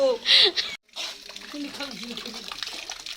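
Spring water at Cherrapunji pours steadily while a person drinks straight from the flow by mouth, a close continuous splashing stream with a brief break, as people talk over it.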